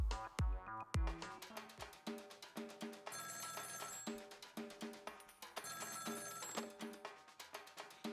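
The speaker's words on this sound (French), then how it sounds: "En revenant à la salle des gardiens, un nouveau coup de fil décisif retentit." A telephone rings in the video game Ghost Trick, with a bright repeating bell over steady rhythmic game music, loud and upfront, and no voices.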